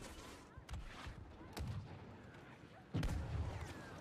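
Gunshots in a shooter video game come as three separate quiet, muffled bangs spaced about a second apart, with low background noise between them.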